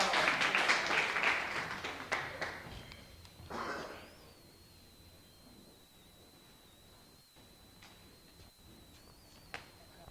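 An audience at a Kisumu youth forum claps for a moderator returning to the stage, a brief burst of applause that fades within a few seconds into near silence.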